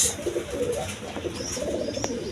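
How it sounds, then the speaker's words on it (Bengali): A pair of chulli pigeons coo in soft, low repeated phrases close by, with faint background noise and no talking. "বন্ধুগণ এখানে এক পেয়ার চুল্লি কবুতর আছে"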